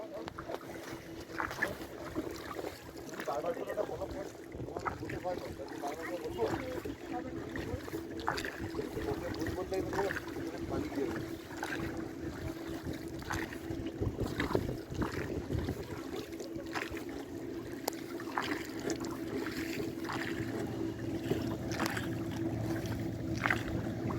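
A boat carries riders across the Maithon Dam reservoir, its steady engine drone and water wash filling the scene, with wind buffeting the microphone throughout.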